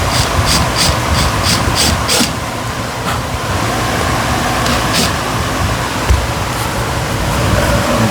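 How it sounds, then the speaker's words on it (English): A power drill bores into wood for a kitchen project, making a continuous, close, gritty grinding whir that holds steady for several seconds, with no talking. "Now I've got the drill bit in my drill the same length as the screw just about"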